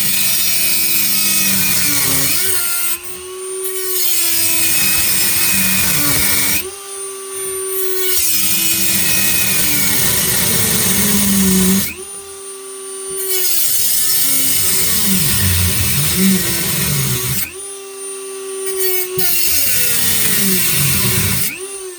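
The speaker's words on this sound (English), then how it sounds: "we're going to be right back to the Dremel, and we're going to have to saw that nut off as well" A Dremel rotary tool sawing through a corroded nut under a kitchen sink, loud high whine in long bursts of several seconds, pitch sagging under load, with short pauses between cuts.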